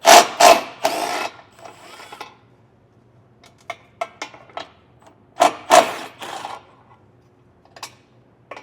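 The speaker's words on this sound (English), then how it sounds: "I got a 14mm socket. I'll get these removed." A socket wrench with a 14mm socket loosens vehicle bumper bolts, giving loud bursts of rapid ratcheting clicks at the start and again midway, with scattered lighter metallic taps between and no talking.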